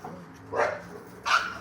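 A dog barks twice, two short separate woofs at moderate distance over a quiet background.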